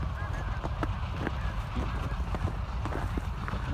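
Many snow geese honk and call at once in a noisy flock, with a faint voice somewhere underneath.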